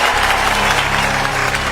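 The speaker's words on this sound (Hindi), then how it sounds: "ताली बजाओ, ताली।" Dense applause from a large crowd, loud and continuous, many hands clapping at once with no pause for the whole short burst.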